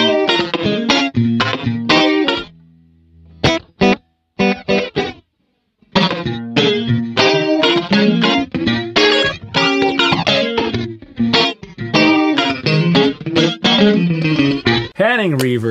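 A funk rhythm guitar runs through a flange preset on an ART SGE multi-effects rack processor, playing choppy, rhythmic strummed chords with brief pauses, loud and steady throughout.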